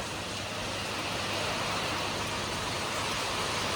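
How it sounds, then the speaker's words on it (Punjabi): A heavy, unbroken roar of downpour fills the whole clip, loud and uniform like rain hammering steadily nearby. "ਵਧ ਗਿਆ ਮੀਂਹ ਹੁਣ"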